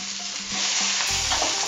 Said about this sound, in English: Now I'm going to add my artichokes, mushroom as well,